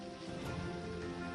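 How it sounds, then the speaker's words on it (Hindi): Light rain falling along Marine Drive in Mumbai, a faint, steady patter of drops on the surface with no voices heard. "हल्की हल्की बारिश हो रही है"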